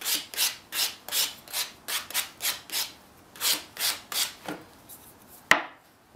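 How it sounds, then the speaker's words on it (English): A fine-grit sanding sponge rubs back and forth over caulk in a steady run of about fifteen soft, rhythmic swishing strokes, close and fairly quiet, ending with a single sharp tap. "I'm using a sanding sponge. It's got a nice fine grit to it."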